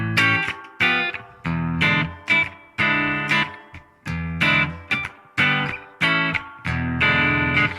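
An electric guitar plays a clean tone with reverb through a Boss GT1000 into a Mackie ProFX12v3, striking about ten rhythmic chords that each ring out and decay, with no talking.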